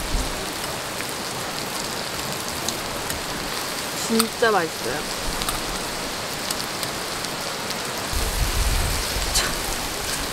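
Steady rain drums on a backcountry tarp at a campsite in Micheongol Natural Recreation Forest, a dense continuous hiss close overhead, with a brief spoken remark partway through.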